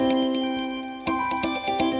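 Default alarm tone 8 on a CAT B35 phone rings out alone as a bright, bell-like electronic chime, repeating in quick metallic strikes that grow denser over two seconds.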